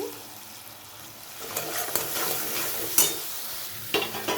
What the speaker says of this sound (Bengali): এখানে একটু জল দিয়ে দিচ্ছি